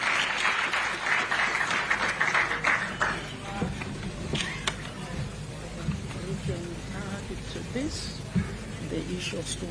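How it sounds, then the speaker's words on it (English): A crowd applauding at a government bill-signing ceremony for an education amendment bill: dense, steady clapping that fills the whole stretch, loud and continuous with no break. "as we give a round of applause"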